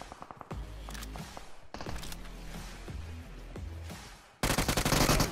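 Gunfire in the video game BGMI, with rapid automatic bursts of loud, close shots in rhythmic volleys, pausing briefly before a final harsher, louder burst.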